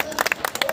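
Crowd at a Jantar Mantar protest sit-in in Delhi breaking into a brief burst of clapping, a short flurry of uneven claps heard from close by in an open outdoor setting.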